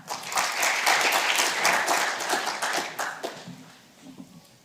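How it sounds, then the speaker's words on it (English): Audience applause at a model UN opening ceremony on fighting inequality: dense, steady clapping from a crowd that swells, holds, then thins to scattered claps and fades out. "Please hold your applause until all speakers have spoken."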